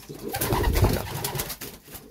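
Young pigeons in a loft coo steadily in low, soft, overlapping murmurs, close and continuous, with no talk.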